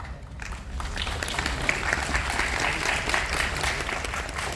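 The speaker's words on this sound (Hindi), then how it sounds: "आपने ताली बजाई" An audience at a Buddhist talk breaks into sustained applause, with dense steady clapping from many hands filling the room throughout.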